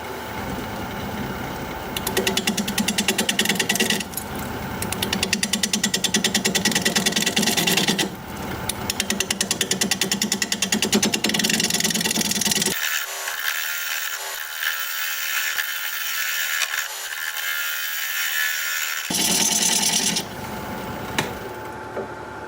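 A wood lathe spins a California olive bowl at 580 RPM while a 5/8 inch bowl gouge cuts it, giving loud, continuous scraping and rasping that breaks off briefly midway, leaving a quieter whir, then resumes.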